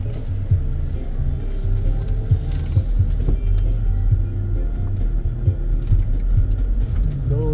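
A car cruising on a highway in Rosario, Cavite gives a steady, loud low rumble of engine and road noise throughout, with no clear talk over it.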